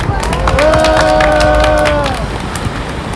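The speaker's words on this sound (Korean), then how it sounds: "다시 한번 박수를 좀 보내드리고 싶습니다" A crowd at a climate protest rally against Doosan's carbon emissions claps and cheers loudly, with raised voices and whoops running through the clapping.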